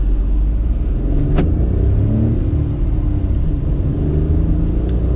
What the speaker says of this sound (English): Foot on the brake, revving the motor.